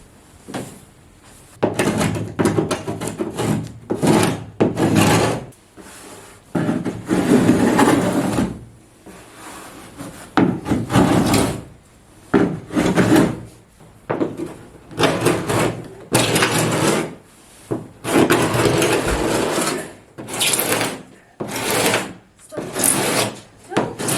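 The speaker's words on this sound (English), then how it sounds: "I'm starting by using a sharpened rounded paint scraper." A sharpened, rounded paint scraper works over the inside of a cedar strip canoe hull, giving repeated short scraping strokes in bursts separated by brief pauses, close and fairly loud.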